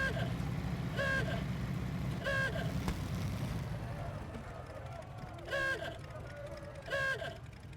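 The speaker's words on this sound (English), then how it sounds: "It's got an ooga horn." A truck's ooga horn in SnowRunner sounds in several short repeated honks over a low rumbling engine idle, recurring in bursts across the clip while someone talks.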